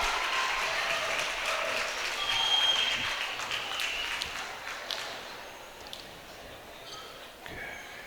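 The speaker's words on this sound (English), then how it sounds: "Somebody started to cheer." Spectators at a girls' high school basketball tournament game applaud and cheer, a broad clapping wash that swells then gradually fades over several seconds with some voices mixed in.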